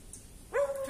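A single short German Shorthaired Pointer vocalization, a brief bark sliding into a whine, heard close after a moment of quiet.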